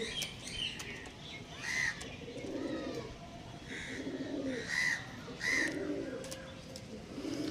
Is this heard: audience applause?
no